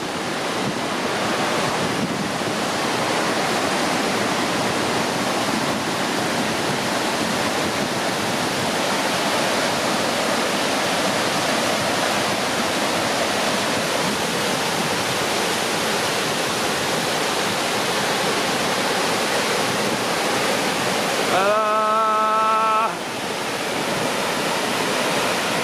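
A thunderous waterfall at DeSoto Falls in DeSoto Park, Alabama, pours in a loud, steady roar of crashing water that fills the whole scene, with a brief tonal sound near the end.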